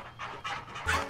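A cartoon puppy in the Playroom VR game pants rapidly and breathily up close, a few quick huffing bursts with no one speaking.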